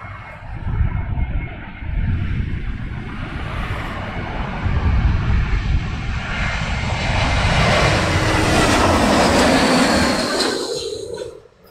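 An airplane lands in a gusty crosswind during Storm Dennis, its engine roar rising and swelling close by over a windy rumble for most of the stretch before fading at the end.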